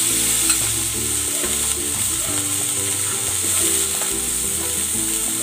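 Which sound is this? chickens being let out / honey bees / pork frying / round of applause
pork frying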